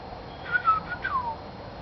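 A person whistles a short imitation of a golden oriole's song, a few fluting, liquid notes with a gliding phrase, moderately close and alone.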